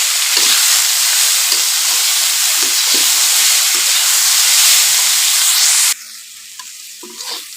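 Water spinach and shrimp being stirred in a hot frying pan, a loud steady sizzle with scraping strokes of the spatula, dropping abruptly to a quieter crackle near the end.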